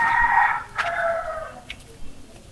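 A rooster crows once, loud and close, its call rising then trailing off over about a second and a half, followed by a short faint cluck in an otherwise quiet yard.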